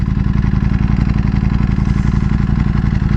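Ducati Panigale V4S motorcycle engine lugging at low RPM, a loud, steady, close-up rumble with a rapid rhythmic chug and slight clatter throughout.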